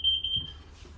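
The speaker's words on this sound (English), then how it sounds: "That is your liquid propane carbon monoxide detector" A liquid propane and carbon monoxide detector in a 2021 Keystone Springdale 275bh RV gives a test alarm: a loud, close, piercing series of rapid beeps that stops partway through, leaving faint room noise.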